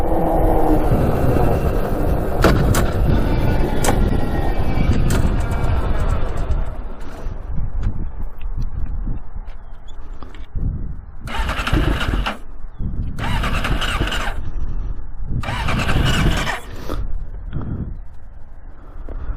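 A modified 100 hp Yamaha Banshee quad runs loud and close, its engine roaring and revving strongly before dropping away, followed by three short bursts of revving with quieter gaps between them.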